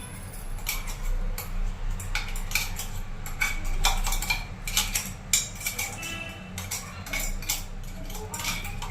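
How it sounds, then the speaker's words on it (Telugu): Ground chutney is scraped from steel mixer jars onto a plate, giving repeated metallic clinks and scraping taps at an irregular rhythm, close and fairly clear. "ఇట్లా మొత్తం మిక్సీ గిన్నెల నుండి ఒక ప్లేట్లో తీసుకోండి"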